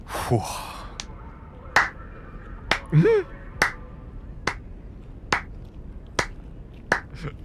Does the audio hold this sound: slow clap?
yes